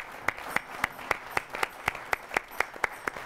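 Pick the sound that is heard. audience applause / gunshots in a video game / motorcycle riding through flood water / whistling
audience applause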